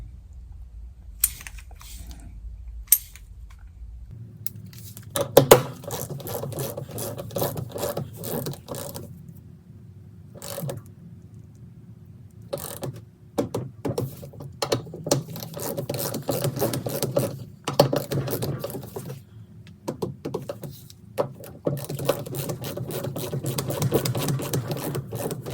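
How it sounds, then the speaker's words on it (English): An inch-pound torque wrench tightens bolts to 70 inch-pounds while fitting a Rock-Link long arm upgrade to a Jeep JT/JL. Dense runs of close, crisp ratcheting clicks follow a quiet start, with no talking. "take your inch-pound torque wrench, and the first setting is going to be to 70 inch-pounds"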